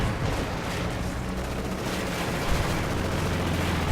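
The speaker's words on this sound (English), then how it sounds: "Strafing run going in" Strafing run in Company of Heroes, a dense, continuous roar of rapid gunfire and impacts, loud and unbroken through the whole stretch.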